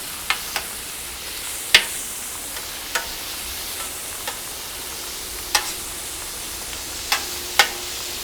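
Skirt steak and shrimp sear on a hot Solo Stove SteelFire griddle, a steady close sizzle broken by sharp pops and spatula scrapes at irregular intervals, no talking.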